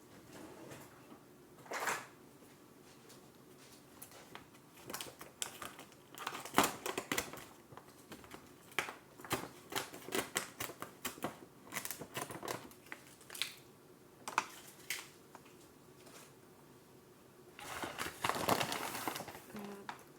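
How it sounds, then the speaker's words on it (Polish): Packaging, apparently a bag of flour, is cut open with scissors in a kitchen, giving a run of sharp snips, crinkles and rustles of varying loudness at close range, with a few louder bursts and a brief low voice. "Otwieram Sobie pomogę nożyczkami."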